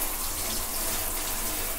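Tap water runs steadily into a bath, a close, continuous rushing splash that holds an even level throughout with no voices.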